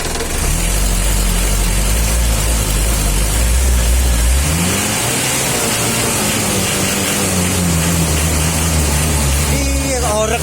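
The engine of an old 1997 Mitsubishi L300 van revs loud and close, a deep idle drone climbing into a rising rev and holding at a raised pitch, with a voice heard faintly beneath it.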